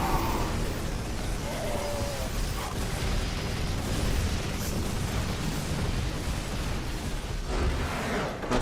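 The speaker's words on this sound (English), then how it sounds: "Disruptor shots are going to fire." Disruptor shots firing and detonating in a StarCraft 2 match, heard as dense rumbling explosions and bursts blended into continuous battle noise, with faint talk underneath.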